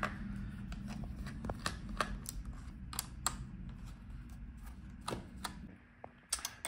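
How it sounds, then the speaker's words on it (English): Small screws come out of an Alienware m17 R4 laptop, a series of faint clicks and light metallic ticks at an uneven pace over a low steady hum, close and quiet. "So let's take out all the screws."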